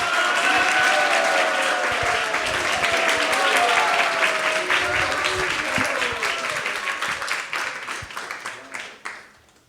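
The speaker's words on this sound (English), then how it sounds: "give the devotees a big round of applause." An audience at a Krishna Katha talk gives a big round of applause, dense clapping that stays loud for several seconds and then thins into scattered claps before stopping.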